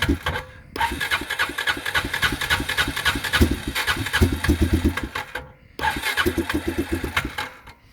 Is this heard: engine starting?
yes